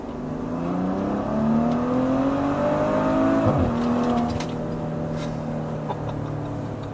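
A 430 hp Maserati Levante SUV accelerates hard, its engine note rising steadily in pitch through a shift, loud and continuous with a sustained roar from start to finish.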